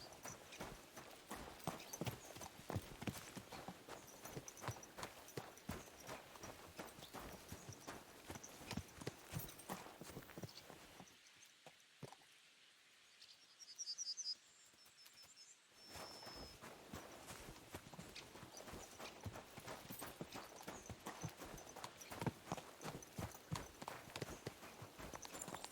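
Horses' hooves clip-clop in rapid rhythmic strikes in the video game Kingdom Come Deliverance 2, riding close and steady, then drop out for a few seconds of near silence before the hoofbeats resume and carry on to the end.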